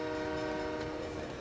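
A passing train in the city-building game SimCity 3000, a steady rumbling roll with horn-like sustained tones throughout, loud and continuous with no talk.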